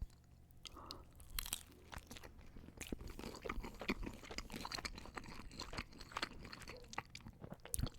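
Close, crisp crunching and chewing of pepperoni flatbread pizza, with irregular bites and crackles running continuously for several seconds and no speech.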